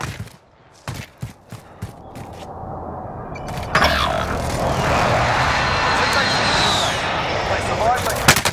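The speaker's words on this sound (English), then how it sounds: "Enemy precision airstrike." An enemy precision airstrike in Call of Duty: Modern Warfare swoops in as a loud jet roar that builds and sustains for several seconds, preceded by sharp gunshot cracks.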